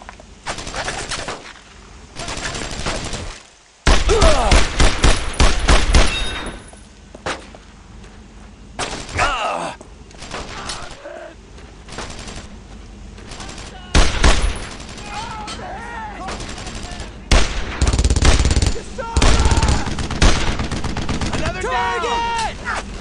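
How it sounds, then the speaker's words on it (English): Machine guns rattle in the World War II video game Brothers in Arms: Road to Hill 30, with loud, sustained automatic bursts broken by short pauses, while soldiers shout between volleys. "Target! Machine gun!"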